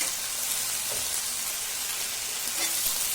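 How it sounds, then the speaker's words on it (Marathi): Dry fenugreek (methi) bhaji with onion cooking in a pan, giving a steady soft sizzle with faint scraping as it is stirred now and then, no voices. "आणि मधून मधून असं हलवत राहायचं."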